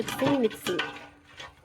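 A spoon stirs and mixes pani puri water with lemon and tamarind in a bowl, giving brief clinks and swirling scrapes, close and fairly soft, with a short voice sound partly overlapping.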